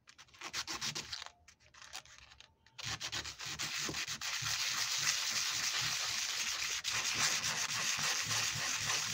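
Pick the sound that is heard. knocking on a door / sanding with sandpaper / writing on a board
sanding with sandpaper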